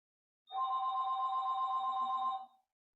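A telephone rings once in a steady two-second burst, clear and fairly close, cutting into the quiet of a spoken meditation with no talk over it.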